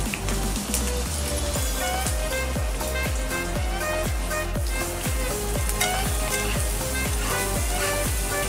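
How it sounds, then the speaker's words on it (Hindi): Onions, curry leaves and green chillies fry in a hot pan, sizzling steadily throughout, with a regular rhythm of stirring or scraping strokes audible over the continuous hiss. "प्याज को ब्राउन कलर होने तक उसको फ्राई करना है।"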